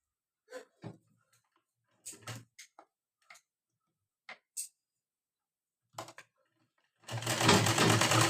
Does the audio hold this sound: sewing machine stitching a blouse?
yes